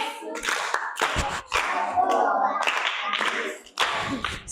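Classroom applause for a pupil: a burst of clapping hands lasting several seconds, fairly close and loud, with brief pauses between bursts and children's voices mixed in.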